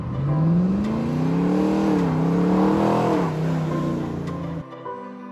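Restored Land Rover Defender 90 with a 450-horsepower GM LT1 V8 and 8-speed automatic, its engine revving up and down in sweeping waves, loud and close, before cutting to a lower idle at the end.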